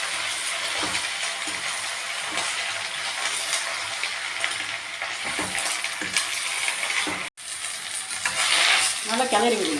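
Drumstick leaves with onion and dried red chili frying in a pan, a steady loud sizzle with repeated scraping stirs of a spatula throughout and a louder crackling burst near the end.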